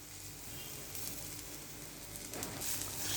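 Kuskara, a Maharashtrian breakfast dish, sizzles and fries in a pan. The crackle holds steady throughout and grows a little louder toward the end, with no talking.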